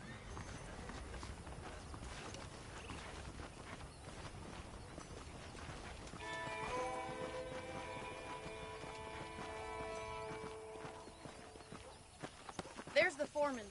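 Horse hooves clip-clop steadily in a cowboy video game, a rhythmic walking beat with a musical score swelling underneath midway through.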